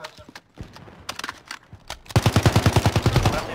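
Gunfire in Call of Duty Modern Warfare (2019): a few scattered single shots, then a loud, sustained burst of rapid automatic fire with an even, driving rhythm close by.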